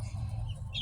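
Backyard farm chickens, a rooster nearby, give soft clucks over low steady background noise, faint and brief, with a thin higher call at the end.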